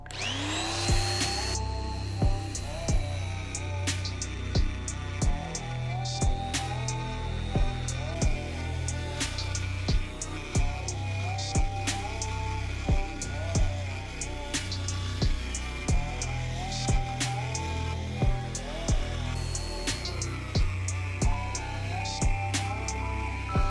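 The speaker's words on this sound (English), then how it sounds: "use that die grinder on that hammer" A die grinder whines steadily at high speed for a long stretch, grinding a hole in an old steel hammer, with frequent sharp clicks and ticks of metal grinding, close and continuous.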